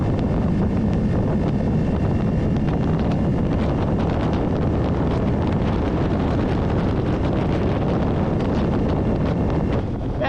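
Steady roar of wind buffeting a 2024 Kawasaki Ninja 650 motorcycle cruising in sixth gear at about 70 mph on a highway, loud and constant throughout with no engine detail standing out.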